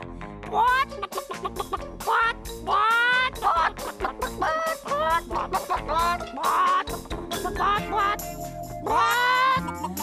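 Several voices imitate a chicken during a follow-the-chicken game, producing loud, repeated rising clucks and squawks in quick bursts that overlap and continue throughout.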